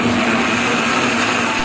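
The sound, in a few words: blender blending chicken stew with rice and water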